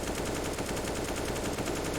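Rapid sustained gunfire sprays continuously in a Counter-Strike match, a dense unbroken rattle of shots filling the whole moment at steady loudness.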